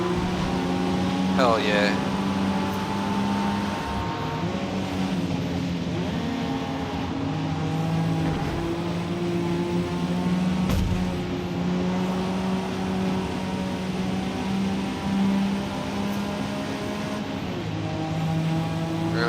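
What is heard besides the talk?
car engine with turbo kit in Forza Motorsport video game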